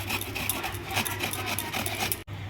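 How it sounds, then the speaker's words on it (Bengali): Raw green mangoes rubbed by hand in a kitchen for Bengali-style kacha aam makha, making a close, continuous scratchy rasp with small rhythmic surges that drops out briefly near the end before resuming. "এই দেখো আমগুলোকে ঘষে নিয়েছি"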